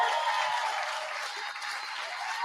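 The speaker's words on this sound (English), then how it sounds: "Let's give a round of applause to Clara." Steady, dense applause from an audience at an obstacle-race awards ceremony, a continuous wash of clapping at moderate volume with no talk over it.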